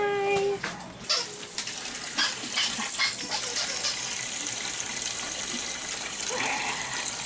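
Water gushes from a tap for hand washing, a steady broadband rush close to the mic with a few clunks and splashes early on, continuing evenly throughout.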